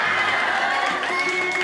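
Audience at a Hindu religious festival gathering in a dharamshala hall, a dense, loud wash of clapping and crowd noise throughout, with voices mixed in.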